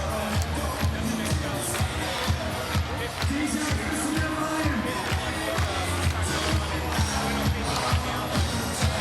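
Arena crowd at a men's event of the 2018 Pacific Regional, on their feet and roaring steadily over loud music, with continuous cheering and clapping filling the whole stretch.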